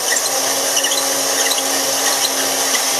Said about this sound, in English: I'm going to ream it just a little bit